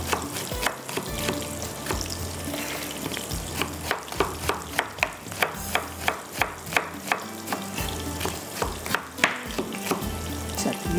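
Onions and potatoes fry vigorously in oil for a prawn and potato biryani, a loud continuous sizzle punctuated by rhythmic scraping stirs, close and without speech.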